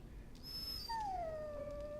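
Warhound dog in the Dragon Age Origins video game giving a single drawn-out whimpering whine that slides downward, fairly close and alone over a low background hum, preceded by a faint high tone.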